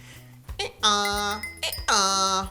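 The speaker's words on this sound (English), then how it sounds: "he heard the tinkling sound of a bell." A bell tied to a donkey rings out in two loud, sustained chiming tones, each ringing on and fading, separated by a short pause.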